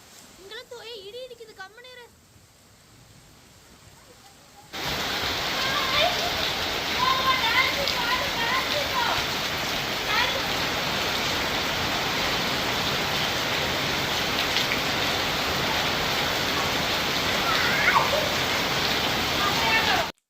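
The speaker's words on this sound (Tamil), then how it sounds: "இன்னைக்கு பயங்கர இடியோட மழைங்க." Heavy rain pours onto a home vegetable garden with maize during a thunderstorm, a loud, dense, steady hiss of drops that starts abruptly after a quieter opening with a faint voice and keeps on unbroken.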